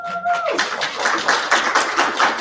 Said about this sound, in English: You get applause.